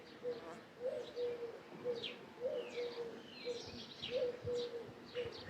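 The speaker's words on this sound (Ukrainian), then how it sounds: "От ранку. отакі пісні пташині." Birds sing in the morning, chirping and cooing softly in the distance, repeated calls spread across quiet outdoor air, with occasional higher tweets overhead.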